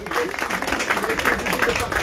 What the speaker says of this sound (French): Des applaudissements pour Maxime Bonnet-Schneider.